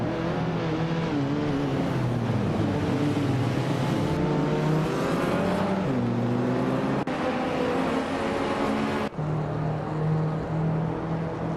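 Engines of AI-driven race cars roar continuously in a racing video game, with overlapping revs, shifting pitch and gear changes as cars pass, loud and steady throughout with no talking.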